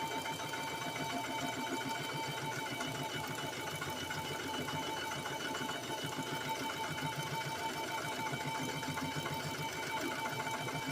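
A sewing machine stitching a seam on a jumpsuit being remade into a tunic top, running in a continuous, steady mechanical whir with no break.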